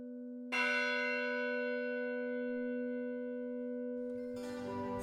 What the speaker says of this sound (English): hear our mission bells ring as you stroll through our gardens